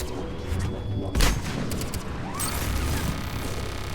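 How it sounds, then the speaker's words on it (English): Gunfire in the Mass Effect 3 video game during a firefight with an enemy in cover, heard as a sharp blast followed by scattered shots and crackling impacts over a dense, noisy battle backdrop. "How is it shooting me while he's in cover?"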